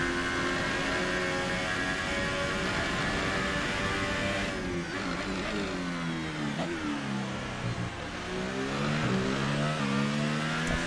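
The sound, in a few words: F1 race car engine in a video game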